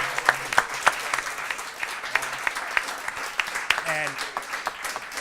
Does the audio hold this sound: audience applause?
yes